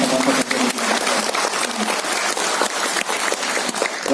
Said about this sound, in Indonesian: Tepuk tangan buat teman-teman pekerja.